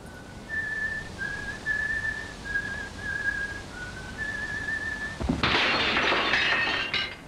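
A person whistles a short melodic tune, clear and fairly close, then a sudden crash of breaking glass cuts in near the end.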